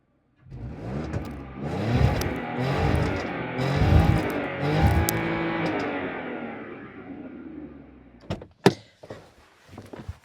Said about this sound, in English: you guys can have a little bit of a listen to the sound that this car makes